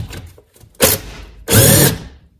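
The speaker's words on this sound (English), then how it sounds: "I'm gonna use my impact drill right here to unscrew these bolts." Two loud bursts of an impact wrench removing brake bolts on a 2008 Toyota Prius, a short rattle then a longer hammering whir, with quieter mechanical clatter before them.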